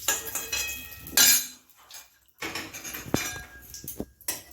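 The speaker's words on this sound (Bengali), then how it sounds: "এবার আমি ডিম দুটোকে তুলে নিলাম।" Two fried eggs are lifted out of a pan, heard as a few sharp metal clinks and scrapes of utensil against pan with short pauses, close and fairly clear, no talking.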